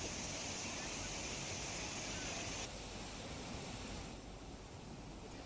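A monsoon-swollen waterfall at Zer village in Chhota Udepur rushes as a dense, continuous roar of falling water, steady and fairly close, with no distinct breaks.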